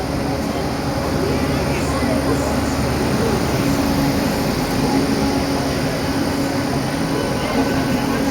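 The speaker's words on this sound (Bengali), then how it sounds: "আমাদের দিল্লির রাজধানী ট্রেন ঢুকে গেছে।" The Rajdhani Express pulls into a Delhi station platform, a steady loud rumble of rail noise with a faint tonal hum throughout and no clear breaks.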